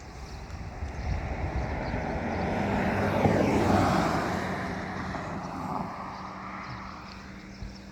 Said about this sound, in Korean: 차량 지나가는 소리 들리시죠?